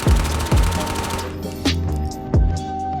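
A gun fired freehand in the VR shooter Ghosts of Tabor: four loud, close shots at irregular intervals, each with a booming body and a ringing tail that fades before the next.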